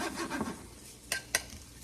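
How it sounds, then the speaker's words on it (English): Sausage sizzling in a pan as it browns, a soft crackle under scraping stir strokes, then two sharp metallic clinks of a utensil against the pan. "this will just be kind of sizzling in here for a couple minutes"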